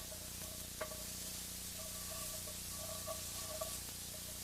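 Half a cup of onions cooks quietly in a pan, giving a faint, steady sizzle with a few light scraping and stirring clicks.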